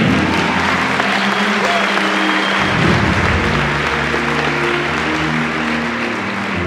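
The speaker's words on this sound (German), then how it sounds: "Applaus jedenfalls nochmal für Ahu als Kusuri Uri." Steady audience applause fills a cosplay contest stage at the Vienna Comic-Con, dense and sustained throughout with crowd murmur underneath and a low hum beneath the clapping.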